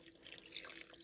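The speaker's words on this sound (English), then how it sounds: "I'm just going to add a little bit of water. About a cup." Water poured from a cup into a slow cooker over dump-and-go beef ingredients, a soft steady splashing trickle lasting about a second, faint and close with no talk.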